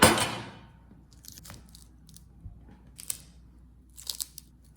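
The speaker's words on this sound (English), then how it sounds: "make a small cut from the edge of the peel toward the center to reveal the fruit segments inside" A knife scores the thick peel of a pomelo in a few short, crisp cutting and scraping strokes close up, with quiet pauses between them and a louder rustle at the very start.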